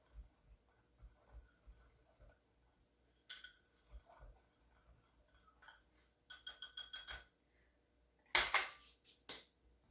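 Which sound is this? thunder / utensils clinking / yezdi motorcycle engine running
utensils clinking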